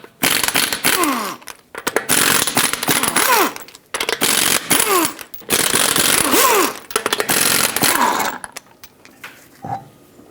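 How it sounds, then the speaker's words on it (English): Power tool spinning off the lug nuts of a 2013-2020 Nissan Pathfinder front wheel with a 21mm socket. Several loud, close whirring bursts separated by short pauses, ending in quieter clicks. "Use a 21mm socket, take all 5 of your lug nuts off"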